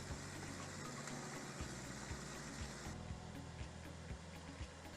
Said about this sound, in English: this tractor has a Mercedes-Benz engine in it